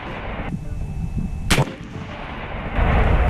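A single loud shot from an AEA Zeus .72 caliber air rifle firing spike ammo, a sharp blast standing out over steady outdoor background noise.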